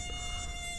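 A mosquito's thin, steady high-pitched whine hangs close and continuous for under a second, with no voices.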